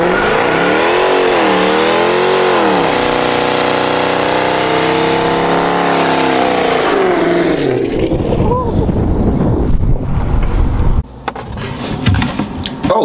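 A car driving, engine droning and rising in pitch as it accelerates and shifts, loud and close for most of the stretch before road noise and rustling take over near the end, with voices partly over it.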